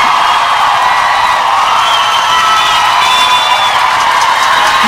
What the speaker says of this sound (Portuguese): Aplausos para ele.